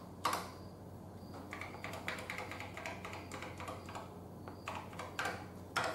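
Keys clacking on an Apple IIe computer keyboard in BASIC mode, with irregular bursts of close, crisp taps and short pauses between presses, heard alone.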